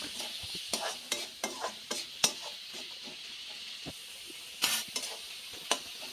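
Papad curry with cumin powder being stirred in a hot pan, a continuous sizzle punctuated by repeated sharp scrapes and taps of the spoon, close and clear.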